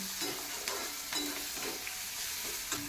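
Onion sautés in a pan for a besan vadi curry, a soft, steady sizzle broken by gentle, regular scrapes of a spatula, quiet and close, with no talking.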